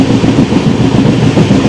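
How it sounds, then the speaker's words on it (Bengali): The 13149 Kanchankanya Express rolls into Bagdogra station with a loud, close, steady rumble of wheels and carriages, rhythmic clatter throughout and no voices. "আর এখন আমাদের ট্রেন ঢুকছে বাগডোগরায়।"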